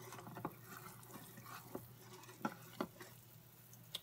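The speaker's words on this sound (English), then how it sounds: "So my pag or my sugar water is coming to a boil" Sugar water syrup for almond barfi comes to a boil in a pan, sounding as faint bubbling with scattered soft pops and clicks over a quiet hum.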